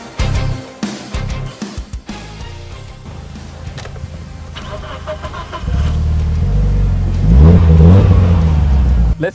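Mitsubishi Lancer Evolution engine building from idle into loud, rising revs before a drag race, with rough low rumble early on swelling into sustained near revving toward the end.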